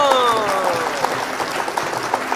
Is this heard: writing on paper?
no